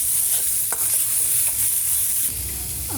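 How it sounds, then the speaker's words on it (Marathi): Soya chunks sauté in ground masala, giving a continuous loud sizzle with a few scraping stirs of a spoon through the pan. "आता आपण यात टाकूया आपले सोया चंक्स. याला देखील व्यवस्थित आपण परतवून घेऊया."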